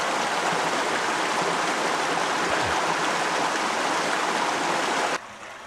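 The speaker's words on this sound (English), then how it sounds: "Here's the headwater of the Colorado River." A flowing mountain stream at the headwater of the Colorado River makes a steady, full rushing wash close by, then cuts off abruptly near the end.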